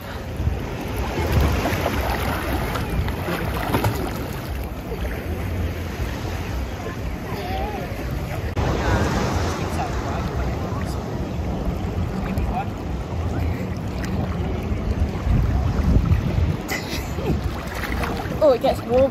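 Surf washing in continuously on a Tenerife beach in Costa Adeje, a steady broadband rush with swells of louder breaking and wind over the microphone, near and constant throughout.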